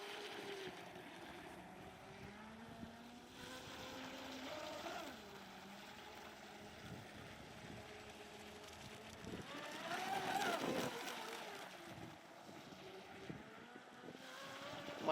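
Atomic SR85 Volantex RC catamaran speedboat running across open water, a steady motor whine with wind buffeting the microphone, swelling louder near the middle as the hull passes closer.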